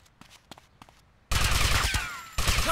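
Sustained automatic gunfire in the video game GTA Vice City Stories bursts in loudly after a quiet stretch of faint footsteps and taps, roaring continuously with a short break before another volley.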